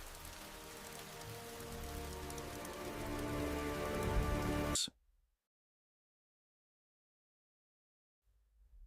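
Steady, dense rain falling, loud and continuous for about five seconds before cutting off abruptly into silence, with a faint low rumble returning near the end.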